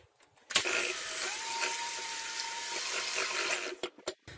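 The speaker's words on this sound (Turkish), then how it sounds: "Ve mikserle iyice çırpıyorum." A handheld electric mixer whisks eggs and sugar, whirring steadily for about three seconds, starting and stopping abruptly, with light clatter against a bowl at the end.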